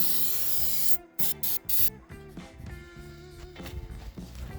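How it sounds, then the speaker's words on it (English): An aerosol can of starting fluid sprays onto a mower tire in a long loud hiss, then several short bursts, followed by quieter rubbing and clanking sounds nearby. "we're gonna try starting fluid on a tire that should actually hold air"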